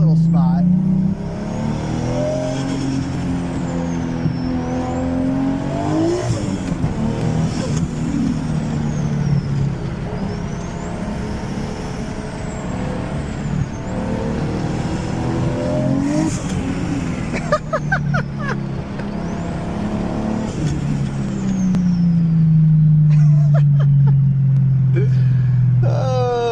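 Lexus IS300 car driving in a small open spot to warm up its tires, the engine note rising and falling through repeated revving passes, loud and steady throughout, with a voice talking over it.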